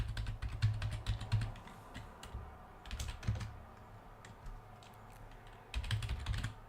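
Fairly quiet, close typing on a computer keyboard: irregular runs of clicking keystrokes with brief pauses and a denser burst near the end.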